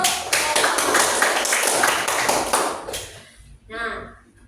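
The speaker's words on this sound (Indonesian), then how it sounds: "Tepuk tangan dulu untuk" Classroom clapping from a group of students for a team's answer in a lesson, a dense burst of claps lasting about three seconds before fading, followed by a brief voice.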